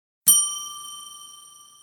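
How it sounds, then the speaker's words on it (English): A single bell rung by a podcast host gives one bright, clear ding that rings out and slowly decays, close and alone in silence. "Ask not for whom my bell tolls. It tolls for thee, in the sense that I just rang it for you."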